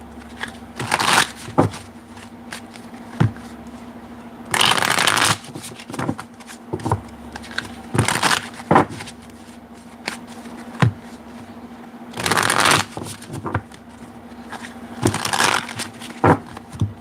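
A deck of tarot cards being shuffled repeatedly, with bursts of riffling and flicking clicks spaced across the clip, close up, no talking.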